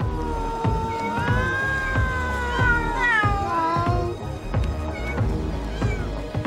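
Several cats on Aoshima Island, Japan's Cat Island, meow and caterwaul loudly and close by, their overlapping wavering cries continuing over a rhythmic musical backing.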